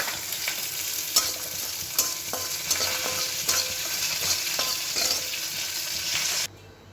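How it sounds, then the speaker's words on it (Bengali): Black cumin (nigella) seeds dry roasting in a wok with no oil give a close, steady crackling hiss, broken by sharp scraping stirs every second or so before the sound cuts off abruptly near the end. "কালো জিরেটা ভেজে নেবো, একটু হালকা করে ভেজে নেবো।"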